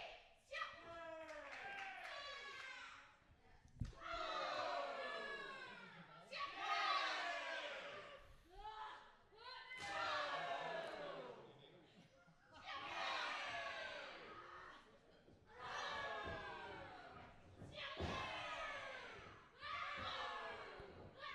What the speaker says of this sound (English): listen to the crowd as they go back and forth